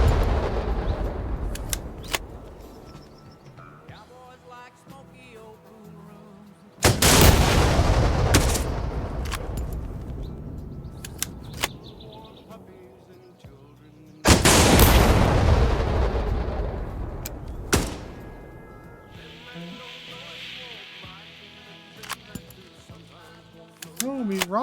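Bursts of AI gunfire crackle through a shooter game demo as enemies fire through bushes and foliage, with repeated sharp shots and two heavy blasts cutting in over constant combat noise.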